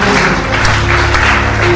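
A church congregation applauds during a Friday worship service, a steady wash of hands clapping together that holds at an even, fairly loud level throughout, with a low drone of sustained music running beneath it.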